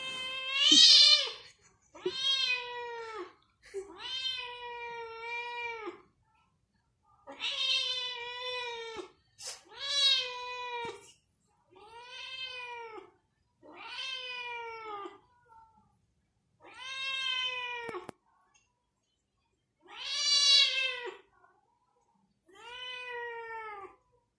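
A sick cat meows and yowls loudly and repeatedly up close, about ten drawn-out, complaining cries with short silent gaps, while its temperature is taken.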